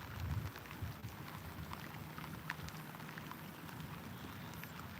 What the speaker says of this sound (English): That rain is continuing to come down.